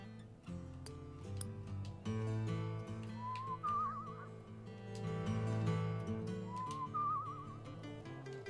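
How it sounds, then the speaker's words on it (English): Hitchhiking whistle in the video game Where the Water Tastes Like Wine, heard as two short rising-then-warbling whistle calls over steady background game music. "Center camera, hitchhike, whistle."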